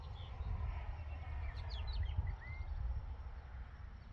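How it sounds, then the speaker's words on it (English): Faint bird chirps and short whistled calls ring out over a steady low rumble of distant traffic outdoors in the desert. "there's a lot of birds out here singing and everything"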